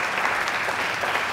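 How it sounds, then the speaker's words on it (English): A big round of applause from the audience at an educators' awards ceremony for an education publication's representative, dense even clapping filling a short moment at a fairly loud level. "We can give Paula another big round of applause for"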